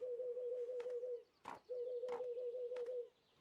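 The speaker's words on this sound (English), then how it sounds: "Oh, look, it's a little brown seagull." A small brown seagull in the cozy game Tiny Bookshop gives a soft, fluttering, cooing call in two trilled phrases, separated by a brief flap-like rustle, and then falls quiet.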